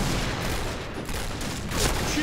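DSR-1 sniper rifle fire in Point Blank, the online shooter game, crackling through a dense, loud wash of constant gunfire and battle noise, with a voice talking faintly under it.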